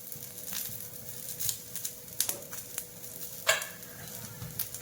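Onion, garlic cloves and coriander sizzling as they roast in a pan for a home-style mutton dish, a steady soft crackle with occasional louder pops and stirring scrapes, moderately close and with no talking.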